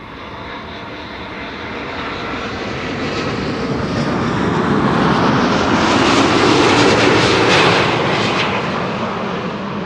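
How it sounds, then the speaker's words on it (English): A Delta Airlines Airbus A330neo jet airliner arriving at Amsterdam Schiphol, its engine roar loud and steady, swelling to a peak as it passes close overhead and then easing slightly. "This is Delta Airlines flight 162, arriving from Minneapolis, Minnesota. It's an A330neo."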